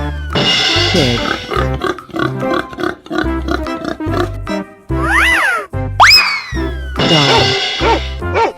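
A pig oinks in a 3D animal video game, its grunts set against bouncy game music and whooshing, sliding sound effects.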